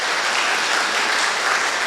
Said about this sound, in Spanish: por favor, con un aplauso.